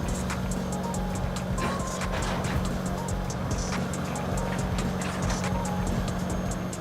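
A 6800 BT wood chipper shreds a giant palm tree in southern Florida, making a loud, steady grinding roar with dense crackling and snapping running through the whole stretch.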